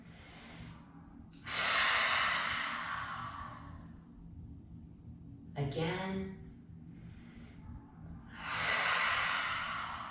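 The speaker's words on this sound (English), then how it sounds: "In through our nose and out the back of our throat together 3 times" Deep breaths drawn in through the nose and pushed out through the back of the throat during a yoga stretching session, with long hissing exhales and a short spoken cue between them, over a steady background hum.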